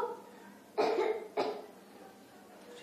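A child gives two short coughs close by, the second following about half a second after the first, over quiet indoor room tone.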